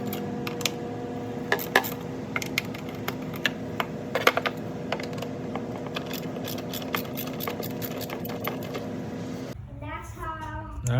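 Spark plugs being loosened with a ratchet on a 2006-2012 Mitsubishi Eclipse GS, a series of quick ratcheting clicks and metallic taps close by, steady and moderate, ending with a brief voice.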